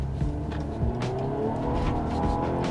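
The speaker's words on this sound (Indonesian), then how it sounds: "Kita coba kickdown di sini." A Mercedes-Benz C300 AMG with low mileage on kickdown, its engine note rising as the car accelerates hard, heard from inside as a steady, close, fairly quiet drone with no talking.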